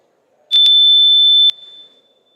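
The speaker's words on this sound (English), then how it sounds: "Can we try out the buzzers one more time?" A quiz competition buzzer is tested at a national junior science and maths championship, giving one loud, steady electronic tone of about a second, bracketed by sharp clicks.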